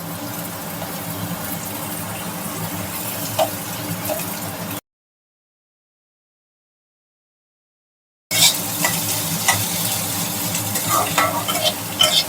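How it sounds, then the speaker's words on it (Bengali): Beans and potato fry alongside spiny gourd in a hot pan, producing a dense, continuous sizzle with stirring scrapes, split by a few seconds of total silence before the frying resumes louder. "বিনস আর আলুটা ফ্রাই করছি, এবার একে একে সব সবজিগুলো দেব"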